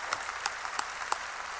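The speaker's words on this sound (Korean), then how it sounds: "박수 치세요." Scattered claps ring out from a church congregation, a few sharp hand claps spaced unevenly over a low room hum, thin and sparse rather than a full round of applause.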